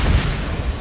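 The Bombarda spell explodes in Hogwarts Legacy gameplay as one short, loud, low boom with a rumbling burst that fades quickly.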